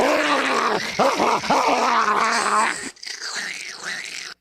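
Growling and yipping from a dog, played back from a video, come through as several rough snarling bursts with a brief gap before fainter whimpering growls.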